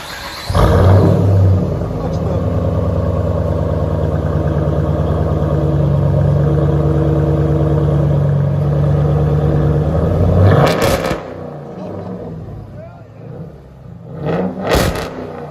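A Jeep Grand Cherokee 5.7L HEMI V8 with an aftermarket exhaust, a loud deep rumbling rev held steady for about ten seconds, then dropping to a lumpy idle with a couple of short blips, close up.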